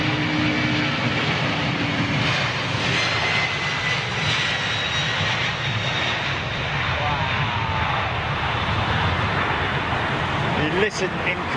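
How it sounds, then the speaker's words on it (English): A Virgin Atlantic Airbus A350-1000 departing from London, its modern high-bypass jet engines giving a loud, continuous roar that holds steady as the aircraft climbs away, with a person talking over it. "listen in comparison to the sound of those old CF6 engines compared to these brand new"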